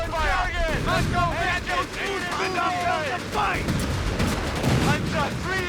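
Infantry gunfire in Company of Heroes 3 during a North African desert battle, steady crackling shots and booms under shouted voices and radio chatter, dense and close throughout.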